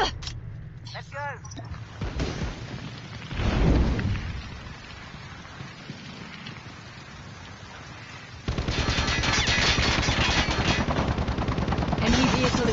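AK rifle fire in a shooter video game crackles in rapid bursts, first in short clusters under a voice and other game noise, then as a dense, sustained volley in the final seconds.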